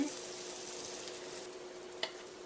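Apple quarters cook in a pan with a soft, steady sizzle, about five minutes into cooking, with one brief clink near the end.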